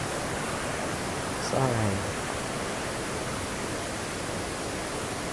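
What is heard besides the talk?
waterfall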